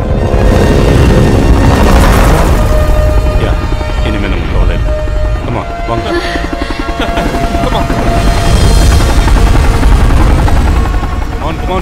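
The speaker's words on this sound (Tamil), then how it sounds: "அது அது ஹெலிகாப்டர்." A loud helicopter thumps and roars steadily throughout in a volcano disaster film dubbed in Tamil, with rotor noise filling the scene and voices talking over it.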